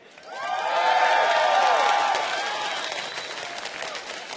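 A large arena crowd at a League of Legends world championship match cheers and applauds loudly, swelling quickly, peaking for about two seconds, then fading to a lingering murmur.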